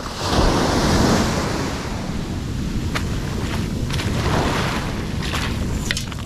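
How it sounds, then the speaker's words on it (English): Ocean surf rolls and breaks on the beach at the Wedge, a broad continuous roar of crashing water with wind buffeting the microphone, surging slightly louder at intervals, close and loud with no voices. "I'm waiting for a wave."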